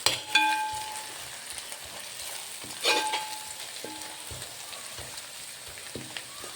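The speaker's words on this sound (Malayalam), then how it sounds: "നമുക്ക് ആദ്യം പച്ചമുളക് സബോളയും വഴറ്റി ഇപ്പോൾ കറിവേപ്പില ഇടാം." Green chili, onion and curry leaves sautéing in a pan for a Thrissur-style chicken curry, giving a steady close sizzle with sharp crackling spits and a few scraping stirs.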